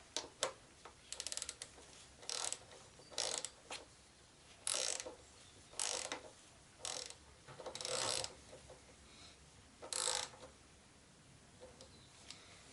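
A wrench tightening a brake bolt on a Yamaha XJ6 motorcycle in a home garage, with a series of faint ratcheting clicks in short bursts spread across quiet pauses, no talking.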